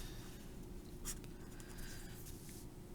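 Marker or chalk writing on a board during a math lesson, faint dry scratching strokes in short bursts over a steady low room hum.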